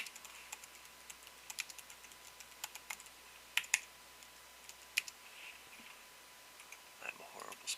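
Typing on a computer keyboard, with irregular bursts of crisp key clicks and taps that come close and sharp over a quiet background, and a few louder keystrokes near the end.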